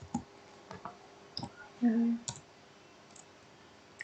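Sparse, faint clicks of computer keyboard keys as a Linux command is typed, a handful of separate taps spread over a few seconds in a quiet room.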